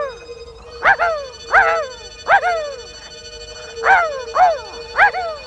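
A voice imitates a dog, giving a series of sharp, yelping barks in pairs and singles, loud and close, over a faint steady tone.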